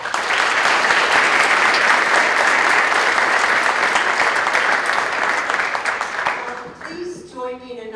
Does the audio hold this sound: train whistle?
no